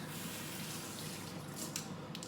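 Tap water runs steadily into a sink to wet the hands while making sourdough, a continuous broadband rush with no talking over it.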